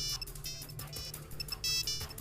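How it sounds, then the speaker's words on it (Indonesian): Phone ringtone ringing, a bright electronic melody that repeats steadily and fills the moment, close and clear over a low background hum. "Nggak lama, telepon saya berbunyi."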